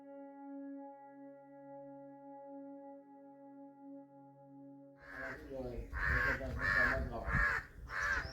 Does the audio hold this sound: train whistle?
no